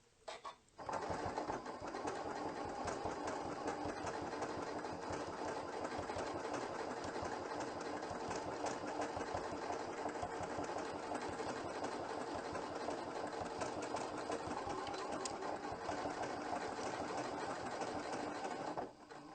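A Janome sewing machine runs steadily for a locking stitch while quilting, with a continuous close mechanical whir that starts abruptly after a brief pause and holds an even rhythm throughout.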